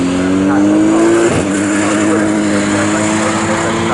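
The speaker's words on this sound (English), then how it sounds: "GT3 car, so producing something in the region of 700 brake horsepower" A GT3 race car of roughly 700 horsepower at a British time attack event screams at high revs, dropping sharply through a gear change before pulling again, loud and steady under a commentator's voice.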